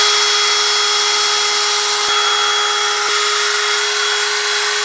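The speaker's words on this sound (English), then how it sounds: "Let the drill do all the work, and just kind of guide it." An electric drill spins a sanding pad with 500-grit sandpaper across a faded plastic headlight during restoration, giving a loud, steady high-pitched whine with grinding hiss throughout, broken by two brief clicks.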